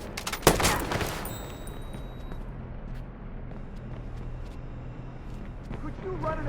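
Gunfire in the video game Watch Dogs, one sharp loud shot burst near the start followed by a continuous rumbling game background with faint scattered noises.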